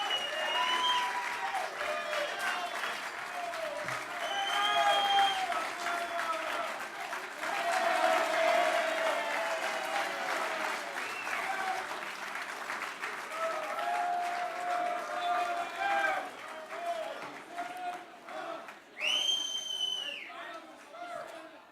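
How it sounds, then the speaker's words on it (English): Loud sustained applause and crowd noise from diners at an annual gala dinner, dense clapping mixed with chatter and a few whoops, rising and falling over about twenty seconds. "a noisy crowd out there"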